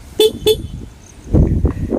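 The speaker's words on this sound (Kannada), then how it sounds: "ಆ್ಯಂಡ್ ಇದು ಹಾರ್ನ್" Two short, sharp beeps of a 2025 Suzuki Access 125 scooter horn sound close by, followed by a louder rumbling burst of nearby noise.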